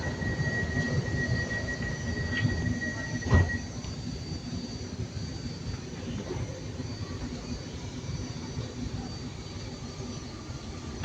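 Steady rumble of a passenger train running between stations, a low continuous roar with faint squealing wheels and one brief clunk, no voices.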